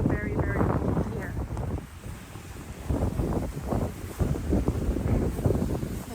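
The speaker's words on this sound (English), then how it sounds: "It's so windy that it's literally like pounding my ears. That's how windy it is here." Strong wind in a cold cemetery buffets the microphone with loud, continuous low rumbling gusts that rise and fall throughout.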